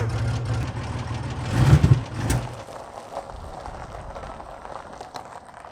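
A lifted Chevy S10 Blazer's 2.8 liter V6, out of tune, idles with a low rumble, rises in a short rev, then settles back to a quieter, uneven idle.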